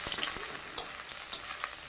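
Onion frying in oil with cumin seeds in a pan sizzles steadily up close, with a few brief scraping and clinking stir strokes, fairly quiet and with no voices.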